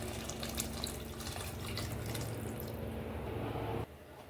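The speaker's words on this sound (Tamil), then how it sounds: "புளி தண்ணி ஊற்றிக்கலாம்." Tamarind water poured into a pan of Jalebi fish curry base, a steady, close splashing stream lasting several seconds before cutting off abruptly, with no talking.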